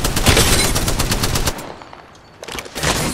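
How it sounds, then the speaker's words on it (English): Rapid automatic gunfire rattles loudly in Apex Legends as the player takes hits, a dense burst for over a second, a brief lull, then more shots resuming near the end. "They spotted me. I'm taking shots."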